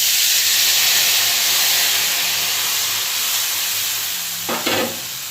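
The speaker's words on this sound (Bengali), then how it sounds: "মশলাটা ভালো করে কষিয়ে নেব, গ্যাসের আঁচটা কমিয়ে দেব, কমিয়ে দিয়ে কষাবো" Spice paste for banana flower ghonto fries and is stirred in a pan, a loud broad sizzling hiss that eases slightly toward the end, with a brief clatter near the close and no voices.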